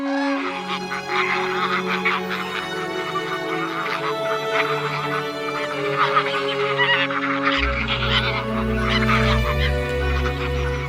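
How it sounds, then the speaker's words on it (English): Geese-like honking calls from migrating common cranes and other birds arriving at their wintering grounds in the Dehesa, a dense overlapping chorus of many birds with steady low tones underneath, continuous and fairly loud throughout. "It's now filled with the noise of the cranes and other migrating birds arriving to their winter"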